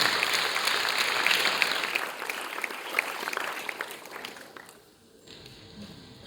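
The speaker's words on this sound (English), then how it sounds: "Another round of applause for Akri, ladies and gentlemen." Audience at a school drama festival awards ceremony claps for a performer in a dense, lively burst that thins and fades out near the end.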